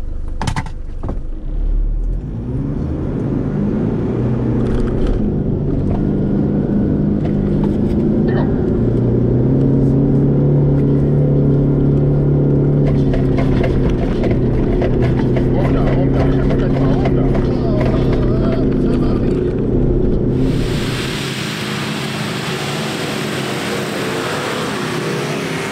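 A 4x4 vehicle's engine roars loud and sustained as it drives flat out along the Klein Tafelberg trail, low rumble rising in pitch, with voices talking over it and wind noise at the end.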